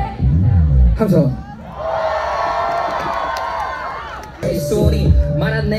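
A large crowd cheers and screams continuously at a Korean multicultural festival concert in Namdong, a bright roaring wall of voices, with bursts of music at the start and end.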